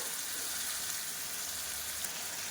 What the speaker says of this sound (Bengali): সরপুটি মাছ বেশি ভাজলে হবে না